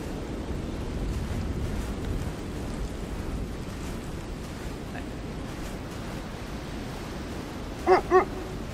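Two quick dog barks in the video game Kona II: Brume, close together near the end, rising over a steady wash of surf-like ambient noise.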